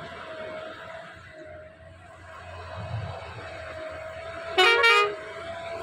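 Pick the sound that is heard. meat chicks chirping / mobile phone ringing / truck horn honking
truck horn honking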